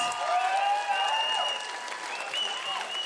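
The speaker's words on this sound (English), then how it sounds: "Give her a round of applause, everybody." An audience applauds a drag queen of the House of Devereaux, with scattered clapping under loud whoops and cheering voices nearby.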